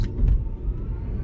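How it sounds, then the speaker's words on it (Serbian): Inside an aerodynamic car on the move, a steady low rumble of wind and road noise fills the cabin, even and continuous with only a faint high whisper on top. "U životu nisam čuo ovoliko količinu vetra u nekom autu."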